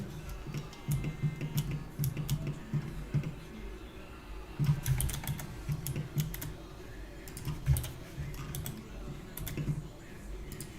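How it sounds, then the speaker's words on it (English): Rapid clicky typing on a mechanical keyboard with Cherry MX Blue switches, close to the microphone, bursts of sharp keystrokes with short pauses, over a low steady hum and some faint voice in the background. "Yeah, those are Cherry MX Blues, yeah."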